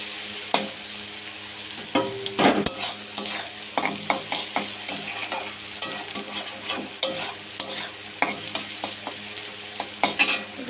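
Macaroni, Maggi noodles and potato pieces frying in a pan, with a steady sizzle broken by repeated scraping stir strokes and clinks, close and fairly loud.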